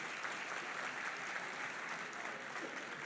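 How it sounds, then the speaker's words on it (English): Steady, fairly faint applause from an audience at a school of music string quartet's performance during a hall of fame evening, a dense even patter of many hands continuing without a break. "How about a round of applause for tonight's entertainment?"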